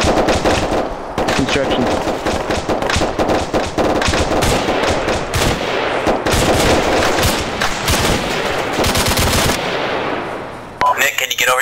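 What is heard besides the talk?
gunfire in video game Arma 3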